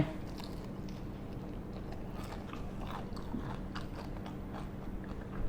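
Crunchy bites and chewing on a fried Thai chive dumpling (kuichai), close and steady, with mouth sounds continuing throughout and no talk.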